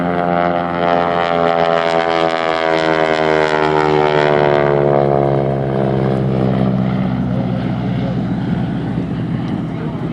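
A propeller aircraft makes a photo pass at an airshow, its droning engine loud and steady with a rising then falling pitch as it sweeps past. An announcer's voice talks over it throughout.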